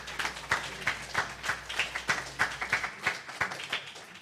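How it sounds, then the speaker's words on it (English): Clapping from a church congregation for the musicians at a Sunday celebration service, a steady patter of many hands with regular loud beats, moderately close, fading slightly toward the end. "let's give them a round of applause"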